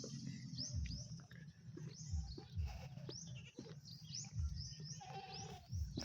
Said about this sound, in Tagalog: tsaka may kambing